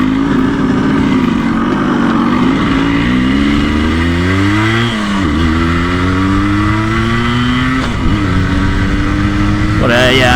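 A 1984 Yamaha RS 125 two-stroke motorcycle engine runs loud and close while riding, its pitch rising and falling through gear changes with a sharp rev near the end, and a voice talks over it at times.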